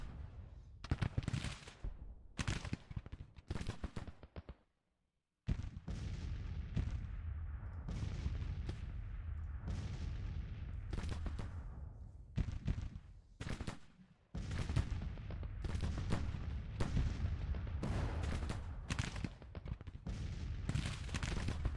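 Artillery fires repeatedly during a Civil War battle at Brashear City in Grand Tactician: The Civil War, loud booming volleys rolling into one another with a short silent gap partway through.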